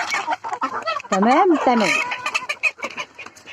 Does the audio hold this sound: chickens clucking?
yes